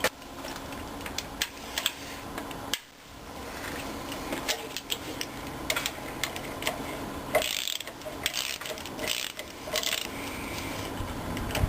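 Rapid ratchet wrench clicking as brackets come off a small block Chevy V8, close-up bursts of metallic ratcheting with brief pauses and occasional clinks, no talking.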